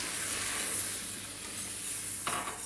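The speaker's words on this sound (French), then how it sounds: "On laisse bien cuire notre roux" Butter and flour roux cooking over medium heat in a pan: a dense, steady close sizzle and hiss, with a brief utensil clink near the end.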